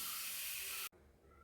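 A pressure cooker with its weight on hisses loudly and steadily while Kerala kalathappam cooks, then cuts off abruptly before a quieter, lingering hiss resumes.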